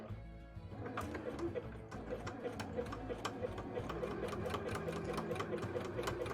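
A sewing machine stitches a bodice insert for a cosplay costume, working along a zigzag close to a wire, with a steady rapid needle rhythm and regular clicks, close and moderately loud throughout.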